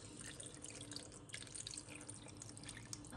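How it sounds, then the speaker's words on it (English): Water runs from a tap into a pot of stuffed grape leaves topped with tomato sauce, a soft, steady splashing trickle that stays faint throughout, with no talk. "Now I'm going to add water so it covers everything."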